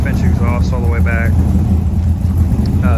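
A 1970 Ford F100 engine runs through Sanderson shorty headers into a straight-through 2.5 inch exhaust with bullet-style mufflers, giving a steady, loud, low rumble while someone talks over it.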